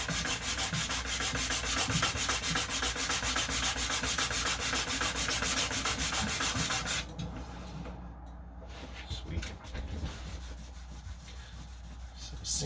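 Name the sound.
sanding a coin ring with sandpaper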